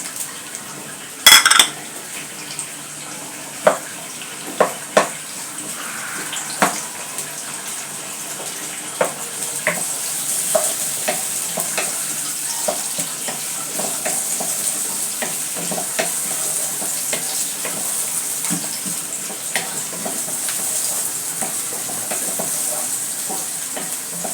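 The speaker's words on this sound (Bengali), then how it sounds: "তেল গরম হলে আমি দিয়ে দিব পেঁয়াজ কুচি" Chopped onions fry in hot oil for a dried-fish lotte shutki dish, making a continuous broad sizzle with sharp spatula scrapes and clanks against the pan, a loud clatter near the start, then steady stirring.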